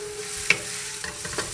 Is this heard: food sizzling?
yes